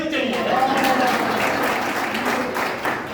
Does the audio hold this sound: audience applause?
yes